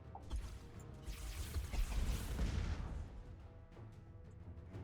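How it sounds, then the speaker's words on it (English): Battleship cannons fire in the space strategy game Master of Orion, heavy booming blasts and crashing impacts rolling together in a dense, rumbling salvo. "I thought my battleships had giant cannons on the top."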